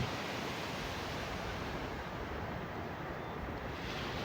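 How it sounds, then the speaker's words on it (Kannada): Continuous roar of sea waves washing in on the coast at Karwar, Karnataka, broad and steady with some wind buffeting, no voices. "ಅಲೆಗಳು ನೋಡ್ರಿ ಹೆಂಗೆ ಹೊಂಟವು"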